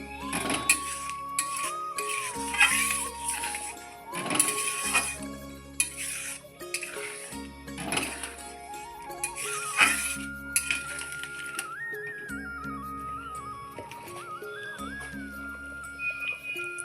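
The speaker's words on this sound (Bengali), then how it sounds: "গরম মশলা দিয়ে আবারও ভালোভাবে নেড়ে চেড়ে নিচ্ছি" Moong dal cooked with a fish head, stirred in a pot after ground garam masala goes in. A spoon clinks and scrapes against the metal in repeated bursts, with steady music underneath.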